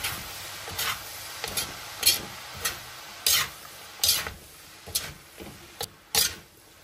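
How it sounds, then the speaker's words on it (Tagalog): Vegetable filling for lumpiang gulay stirred in a pan, a spatula scraping in repeated rhythmic strokes, about ten distinct scrapes over a soft sizzle, close and fairly loud with no voices. "Then, haluin na natin ito."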